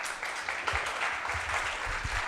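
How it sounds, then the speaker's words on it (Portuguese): Church congregation clapping together during a service, a brief burst of dense, moderately loud applause that holds steady without any voices. "Salva de palmas para o Bitânia."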